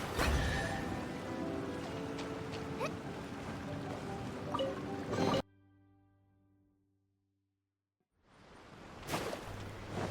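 A waterfall in Genshin Impact rushes as a steady broadband roar, then cuts to near silence for a few seconds and returns at the end, with no talk.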